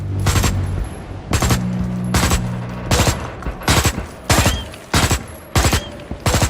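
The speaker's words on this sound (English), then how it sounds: "Outside the vehicle, a triple burst assault rifle is used." A triple-burst assault rifle in a Unity game level fires repeated sharp bursts at regular intervals, loud and close, with short tails between volleys and no voices.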